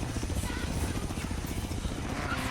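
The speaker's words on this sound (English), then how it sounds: "you're racing this Chinook helicopter who's carrying a 4x4 with someone in it" A Chinook helicopter in Forza Horizon 3 thuds with a steady, rapid, loud rotor beat and a heavy low drone underneath that never lets up.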